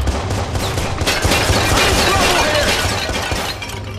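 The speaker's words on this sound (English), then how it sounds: "This is an intense firefight." Loud, dense gunfire rattles without pause during a firefight in Watch Dogs, with rapid overlapping shots and crashing impacts close by.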